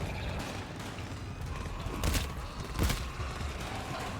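Automated sentry turret fire from the co-op shooter GTFO, a steady dense rattle of rapid shots with two heavier bursts standing out, loud and continuous throughout.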